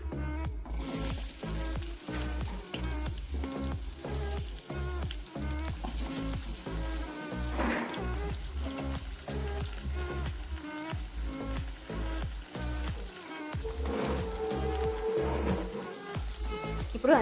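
Sambar vegetables frying in hot oil in a pan, a steady close sizzle with a crackling rhythm of stirring and utensil scrapes running throughout.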